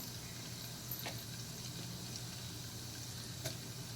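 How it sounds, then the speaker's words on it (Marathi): Cumin and mustard seeds crackle in hot oil for a dal tempering, giving a steady, faint broadband sizzle with a couple of brief pops, close by and with no talk. "तापलेलं आहे त्याच्यामध्ये आता मी जिरे मोहरी फोडणीला घालते"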